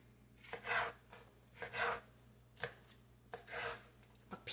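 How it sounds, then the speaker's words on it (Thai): A knife chops vegetables on a board while a Lao papaya salad is prepared: four separate bursts of quick rasping strokes, close and fairly quiet, over a low steady hum, with no talk. "มาหั่นผัก"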